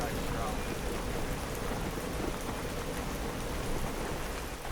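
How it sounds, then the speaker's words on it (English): Heavy rain pouring down during a run across southern Iceland: a dense, loud, continuous hiss of rainfall with low rumbling underneath, steady throughout. "Water is pouring down from the sky."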